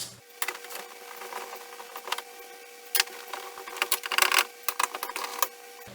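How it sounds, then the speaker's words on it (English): Bolts are worked loose on a Buick Rendezvous window regulator with a ratchet, giving bursts of quick metallic clicking separated by short pauses, close and fairly loud with no talking. "And now I'm going to go ahead and unbolt it all"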